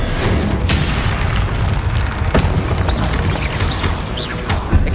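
Spell explosions from the Confringo fire spell in the game Hogwarts Legacy boom out in a loud, dense, continuous barrage of blasts and crashes, with sharp bursts standing out at intervals.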